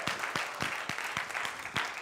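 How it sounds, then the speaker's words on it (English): Congregation in a church clapping hands, a loose wash of applause with a few sharp, regular claps standing out in a steady rhythm, moderately loud. "clap your hands if you're happy to be in church today"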